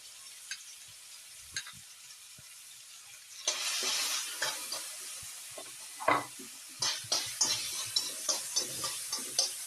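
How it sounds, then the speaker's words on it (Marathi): Chili and cumin paste frying in oil, a faint quiet stretch giving way to a sudden bright sizzle as the paste hits the pan, followed by a steady run of rhythmic stirring scrapes, close by. "तिथं चांगल्या तेलात परतवून घ्यायचं हे दोन चमचे तेल टाकलं होतं भाजी परतवण्यासाठी"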